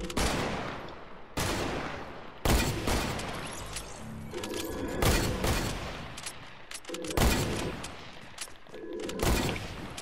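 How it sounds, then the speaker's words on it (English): Gunfire in the video game Fortnite: loud, close bursts of repeated shots in clusters roughly every couple of seconds, sharp cracks with booming tails and a busy rattle between volleys. "you're both really shooting at me like we're not even shooting each other"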